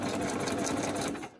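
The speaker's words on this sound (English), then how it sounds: "Remember, the needle must be up every time you change between zigzag and straight." Sewing machine running steadily while stitching a straight seam on a handmade journal cover, a close, continuous whirring motor with rapid needle rhythm throughout, no talking.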